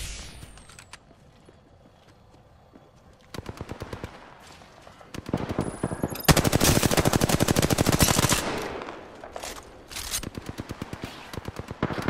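Gunfire in the video game Apex Legends: short bursts of rapid automatic shots, then a long, loud sustained volley, followed by more scattered shots.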